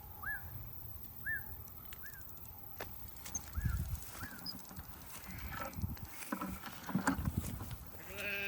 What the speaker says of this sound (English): They're young goats